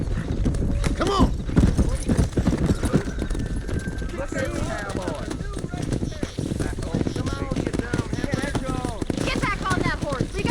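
Rhythmic hoofbeats from the game Red Dead Redemption clip-clop steadily throughout, with a horse whinnying and someone shouting over them.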